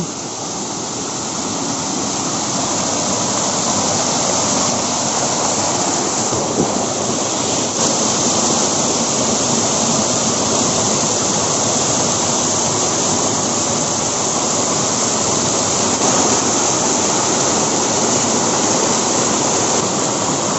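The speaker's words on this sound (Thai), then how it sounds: "น้ำตกข้างหลังผมนะฮะ น้ำตกเล็ก ๆ นะครับ" Small waterfall flowing steadily on a nature walk, a loud, continuous broadband rush of water that holds constant with no talk over it.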